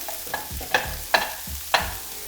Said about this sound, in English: some coriander stalks, and some garlic. And give that a really good stir.